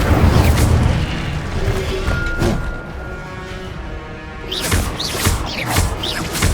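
A fiery Incendio spell blast in Hogwarts Legacy on PS5, a loud booming burst at the start followed by a rumbling roar and sharp crackling flares near the end, with no talk.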